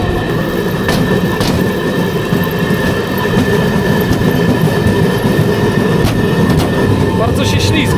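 A pedal-powered rail bike draisine rolls along old rail tracks near the Vistula Lagoon at Frombork, giving a loud continuous rumble with rhythmic clicks and faint squeals, and voices talking now and then.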